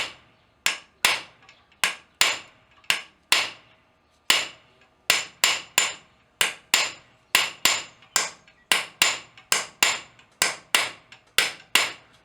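Sharp metallic hammer strikes from a light hammer on a ball punch against metal ring out one after another, mostly in pairs and short bursts, each with a brief ringing decay, close and clear, while forging rosette rivets.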